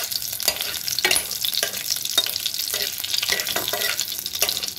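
Two chillies and a tempering with cumin or black cumin frying in oil for a spinach dal, a constant close sizzle punctuated by repeated sharp stirring scrapes and taps against the pan, no speech.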